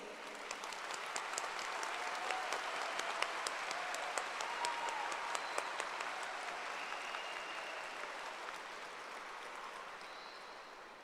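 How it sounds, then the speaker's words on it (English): Sustained applause at a high school graduation ceremony in Edinburg, a broad, fairly distant wash of many hands clapping with sharper individual claps on top, holding steady for about eleven seconds. "Students, join me as we give a nice round of applause to your biggest supporters, your families"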